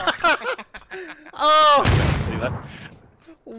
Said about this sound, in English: What a nade, bro.